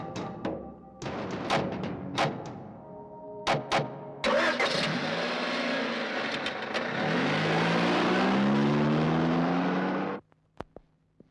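A car in a Tamil film scene gives a few sharp clicks and thuds, then its engine starts and revs with a rising whine as it backs up, holding for several seconds before cutting off abruptly.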